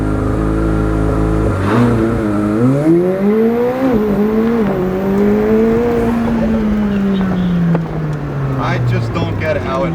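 A McLaren 765LT launches hard on a street from launch control, its twin-turbo engine roaring loudly up through the gears with rising pitch and shift breaks, close and dominant, with a voice briefly under it.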